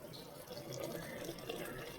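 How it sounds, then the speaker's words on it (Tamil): Water is poured steadily into a pot of rice for chicken leg piece biryani, two cups of rice taking about three and a half cups of water, as a soft continuous splashing stream. "இப்போ நம்ம இதில் தண்ணி ஊற்றணும்."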